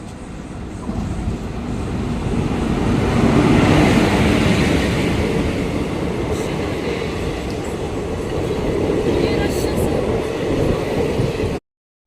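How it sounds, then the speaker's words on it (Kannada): A passenger train bound for Mangalore rolls into Koppal railway station, a loud, sustained rumble and rattle of wagons that swells near the middle and cuts off abruptly at the end. "ನೋಡಿ ಮಂಗಳೂರಿಗೆ ಹೋಗುವ ಟ್ರೈನ್ ಬರ್ತಾ ಇದೆ ಇವಾಗ"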